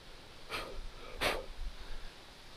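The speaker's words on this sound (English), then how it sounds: "I apologize if all you can hear is me panting like an old man" Heavy breathing of a man hiking up a steep mountain trail, two sharp close breaths a short way apart over faint background noise.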